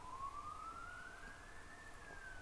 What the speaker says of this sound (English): There's so many ambulances.